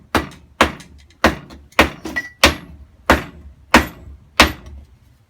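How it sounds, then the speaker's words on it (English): Nine evenly spaced hammer blows drive trim into a 1959 Chevrolet Impala trunk, thumping sharply and close, each with a short ringing decay, one quick double strike near the middle. "So I'm gonna hammer this one in a bit."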